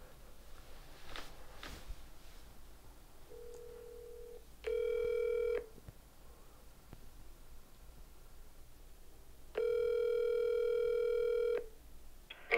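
Telephone call tone heard through a phone while someone waits for an answer at night in a house: two long steady buzzing ring pulses separated by a pause, clear and moderately loud over a faint hiss, with no talking.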